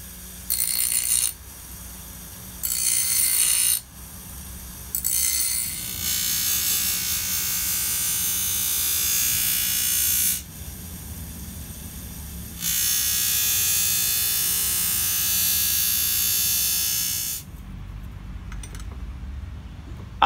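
A grinder works the beaten-up spine of a Taiwan cleaver during refurbishing, with several short, harsh bursts at first, then two long, steady stretches of close, loud grinding separated by pauses.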